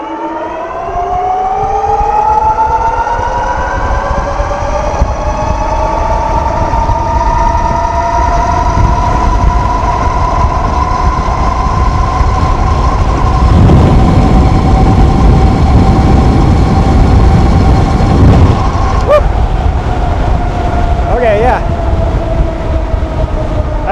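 A Wired Predator electric vehicle accelerates on dual motors, a loud rising electric whine with layered harmonic tones over heavy rushing wind noise that holds steady throughout.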